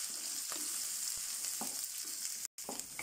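Shallots frying in hot oil, a close, bright continuous sizzle with a few soft stirring scrapes and a brief dropout, no talking.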